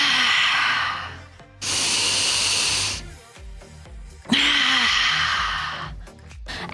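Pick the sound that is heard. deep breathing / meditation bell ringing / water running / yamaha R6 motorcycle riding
deep breathing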